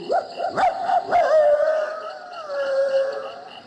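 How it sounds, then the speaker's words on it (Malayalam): A dog barks a few times in quick succession, then lets out a long drawn-out howl or whine, close and clear. "ഒരു പട്ടിയാണെന്ന് തോന്നുന്നു."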